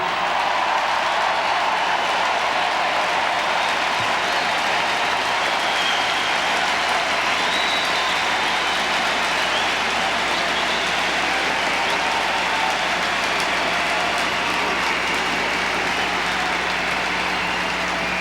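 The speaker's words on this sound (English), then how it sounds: "You cheer now because you know this is true." Large crowd in a convention hall at the 1996 Democratic National Convention, applauding and cheering in a steady, dense roar that holds loud and unbroken throughout, with no speech over it.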